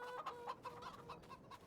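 Farm chickens in Farming Simulator 22 cluck in short, soft repeated bursts, faint and close together, with a slightly louder squawk at the very end.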